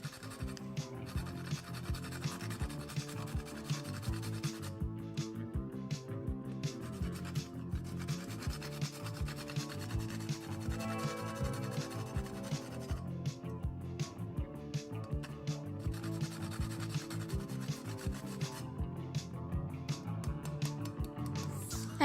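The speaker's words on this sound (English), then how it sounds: "I'm just simply grating the nutmeg" Whole nutmeg scraped against a small kitchen grater while mulled wine is prepared, giving a steady close scratchy rasp that runs throughout with no talk.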